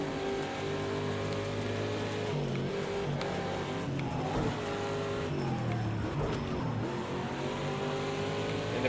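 Ford Mustang GTD race car in a racing video game, its engine droning steadily throughout with shifting pitch and a constant loud hum, accompanied by a rain-like hiss.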